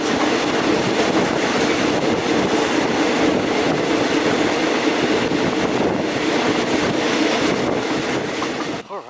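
A passenger train running from Bangkok to Ayutthaya rattles along with constant wheel clatter and broad rolling noise, heard from inside the carriage at steady loudness before it cuts off at the end.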